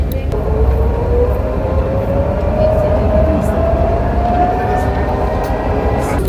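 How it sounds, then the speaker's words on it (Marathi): A train rumbles steadily and loudly nearby at a road crossing in Dubai, a continuous low roar with a rising tonal whine from the wheels, filling the whole stretch. "बघ ट्रेन क्रॉस होते म्हणून गाड्या थांबल्या जातात"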